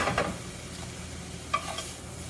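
Maitake mushrooms in tamari sauce tossed in a hot pan, giving a soft, steady sizzle with brief stirring scrapes near the start and a clatter about midway.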